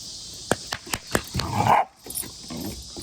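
A pet dog barks in a burst of sharp, close barks, then a growly, whining stretch and more scattered yaps, with no talking.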